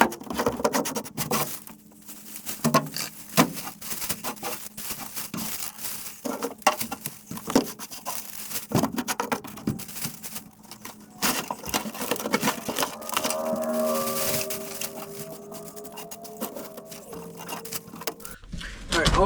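Debris being scooped out of a 1966 Ford Fairlane floor by hand, a string of close scraping, crinkling and rustling bursts with gritty patter, followed by a steadier low hum near the end.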